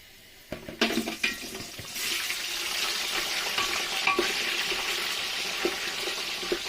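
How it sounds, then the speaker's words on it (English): A few clattering knocks, then a steady hissing sizzle of goat meat frying in vegetable oil in a pot, close by and continuous. "So now I'm going to start frying my meat."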